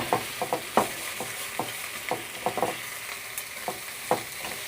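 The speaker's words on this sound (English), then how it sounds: "I'm sticking the bacon to the bottom of the pan." Bacon fries in a pan, a close steady sizzle broken by repeated sharp scraping taps of a utensil pressing it against the bottom, with no voices.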